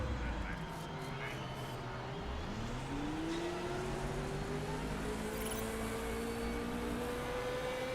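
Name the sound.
race cars driving on track, Motorsport Manager video game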